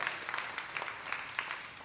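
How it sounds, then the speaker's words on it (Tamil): Applause from an audience at an award event, a dense steady patter of many hands clapping with scattered sharper claps, moderately loud and close, with no talk over it. "நல்லாவே கைத்தட்டலாம்."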